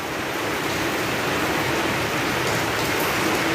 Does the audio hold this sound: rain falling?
yes